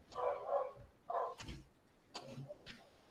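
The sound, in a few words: dogs fighting and barking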